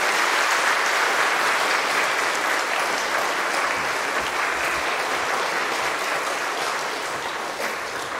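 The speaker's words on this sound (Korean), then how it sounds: "자, 뜨거운 박수로." A church congregation applauding warmly, a dense, steady clatter of many hands clapping that fades slightly toward the end.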